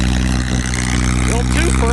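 A John Deere 1020 tractor working a plowed hillside, its engine chugging steadily in the background while people talk over it.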